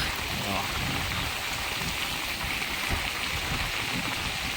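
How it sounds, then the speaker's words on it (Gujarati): Floodwater from the Rajpara river in Chotila taluka surges along in heavy rain, a steady loud broadband rush of flowing water and rainfall that continues unbroken throughout. "જો એટલું એટલું પાણી જાય છે."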